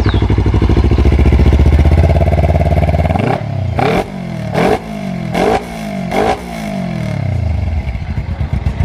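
Custom Honda CB-style motorcycle with a large two-cylinder engine, idling loudly up close and then revved in repeated sharp bursts with rising and falling pitch before settling back.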